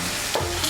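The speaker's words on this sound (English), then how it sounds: "I'm frying the mushrooms and the fennel in the pan." Mushrooms and fennel frying over high heat in a pan, a brief steady sizzle with a faint stirring scrape partway through, close and alone.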